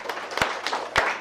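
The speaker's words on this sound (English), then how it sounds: "I will go clap for them again." A handful of sharp, close hand claps ring out at an uneven pace for performers at a live show, with faint crowd murmur between them.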